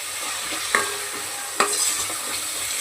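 Steady sizzling of kasuri methi (dried fenugreek leaves) in a hot pan with two sharp scraping clicks of a spatula stirring, close and continuous, no voices.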